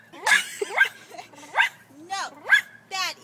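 A girl imitates a dog, giving a series of about six high, yelping barks and whimpers in uneven bursts, close and fairly loud, alone without other talk.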